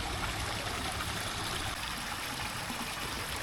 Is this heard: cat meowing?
no